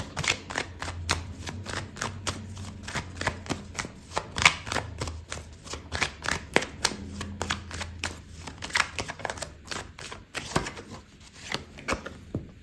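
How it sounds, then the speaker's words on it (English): Tarot cards are shuffled and drawn for a love reading, giving a long run of crisp, rapid riffling flicks and soft slaps, close and steady, with a low hum underneath and no voices. "Okay, so I'm going to pull out another card."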